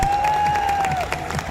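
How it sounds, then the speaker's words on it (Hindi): Brief burst of clapping and cheering from a crowd at a stadium event, loud and close, with a sustained tone running through the first second. "तो आप सबके लिए जोरदार तालियां"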